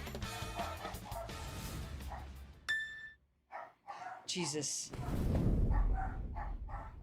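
Puppies bark in a video game trailer, a few short yips and barks mixed among loud music, sound effects and voices, with a man reacting over them.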